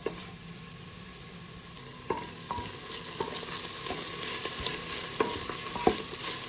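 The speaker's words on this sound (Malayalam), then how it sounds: "നമുക്കിത് ഒരു മീഡിയം ഫ്ലെയിമിലിട്ട് നന്നായിട്ട് വഴറ്റിയെടുക്കാം." Onions, ginger and garlic sauté over a medium flame for a beef curry, a steady soft sizzle broken by occasional sharp scrapes and taps of a spoon stirring the pan, close and continuous with no voices.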